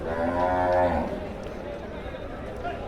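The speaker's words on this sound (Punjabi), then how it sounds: "ਗਾਵਾਂ ਆ ਗਾਵਾਂ ਦੇਖੋ ਸੱਜਣੋ" Cows at a livestock market in Jagraon give a low, drawn-out moo near the start, followed by a steady murmur of crowd noise and activity throughout.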